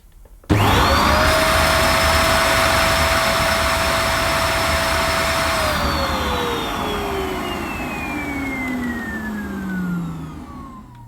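A Vacmaster Captura pet upright vacuum cleaner switches on with a sharp start and runs at a loud, steady high-pitched whine during a suction gauge test, then the motor tone drops and slowly winds down near the end, with no talk.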